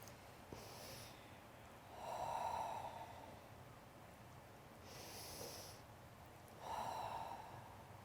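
Slow, deep breathing during a chair yoga session, with long audible inhales and exhales repeating in a calm rhythm, close and soft with no talking.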